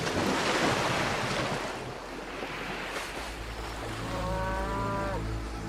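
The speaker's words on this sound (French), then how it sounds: "Autour d'eux, les troupeaux d'Hélios, vaches, brebis, veaux, moutons, sont admirables" Cattle and sheep of a grazing herd lowing and bleating on a seashore, the calls rising near the end over a steady wash of surf and wind.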